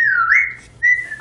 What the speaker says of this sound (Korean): 휘파람 불면 바로 웃어요.